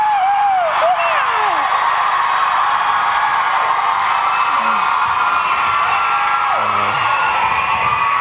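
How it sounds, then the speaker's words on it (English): At the Big Brother Australia live final in 2001, Ben lets out loud screams and whoops amid a studio crowd that roars and cheers continuously, with some shouting voices mixed in. "Ben, give him a scream."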